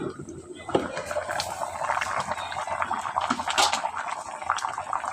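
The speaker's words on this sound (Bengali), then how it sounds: "টকবক করে ফুটতেছে মাংসগুলো" Chicken meat pieces boiling in a pot, a continuous bubbling and gurgling liquid sound heard close up, with a brief knock near the start and no one talking.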